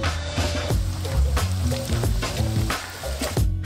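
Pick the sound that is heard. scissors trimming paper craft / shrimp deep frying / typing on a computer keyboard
shrimp deep frying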